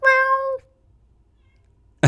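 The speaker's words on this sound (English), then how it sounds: "you heard a cat" One loud, clear cat meow up close lasts about half a second and is followed by near silence, then a brief thump at the very end.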